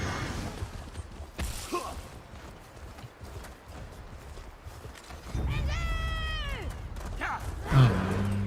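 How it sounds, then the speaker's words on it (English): Horse hooves clip-clop during riding in the video game Elder Scrolls Online, a steady close gait mixed with game effects, including a whinny-like tonal sweep and a swoosh. "I'm trying to ride my horse."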